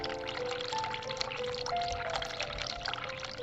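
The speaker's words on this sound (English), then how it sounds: "Turn cold water on, turn hot water on, turn tap off." Hot water runs from a sink tap in The Cat Lady video game, a steady pouring hiss that holds at an even level throughout with no talking.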